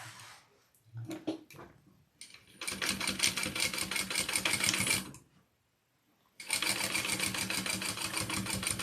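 A sewing machine bastes fabric for a backpack, stitching in two long, steady runs separated by a brief pause, with a few handling clicks and rustles before the first run.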